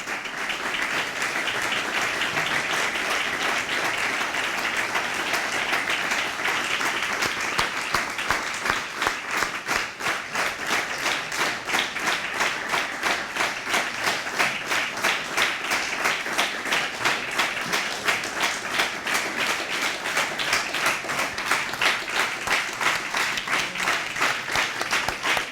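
Sustained applause at a Cannes city council meeting, dense and even clapping that carries on steadily for the whole stretch with no talk over it.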